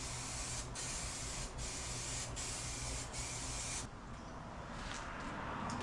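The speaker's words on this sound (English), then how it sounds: "I don't want to stop and start spraying on my surface" Continuous loud hiss of a spray gun applying primer to a boat cowling, steady and close throughout with slight pulsing as passes are made, then a brief dip in intensity near the end.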